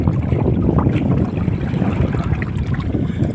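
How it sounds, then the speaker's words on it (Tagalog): Wind roars steadily over a small new sailboat out on open water, a constant, loud, rumbling gust mixed with a faint wash of water and no talking. "Itong hangin na to."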